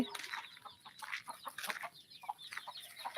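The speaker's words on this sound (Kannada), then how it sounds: "ಇಲ್ಲಿ ನಾಟಿ ಕೋಳಿ ನೋಡಿ ನೋಡಿ ನೋಡಿ ಮರಿಗಳೆಲ್ಲ ಎಷ್ಟು ಚೆನ್ನಾಗಿ ಹೋಗ್ತಾ ಇದ್ದಾವೆ" Free-ranging native country hens and their chicks cluck and peep steadily in a farm setting, with dense, overlapping chirps and short clucks close by throughout.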